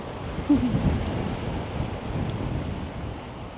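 Wind blows outdoors in Zaragoza as a steady low roar and rumble buffeting the microphone, continuous and fairly loud, with a faint brief voice early on.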